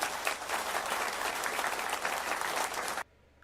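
An audience applauds at a UK election event, dense clapping for about three seconds that cuts off abruptly into near silence.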